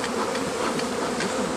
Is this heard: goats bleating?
no